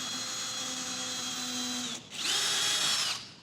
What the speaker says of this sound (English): If you don't drill that pilot hole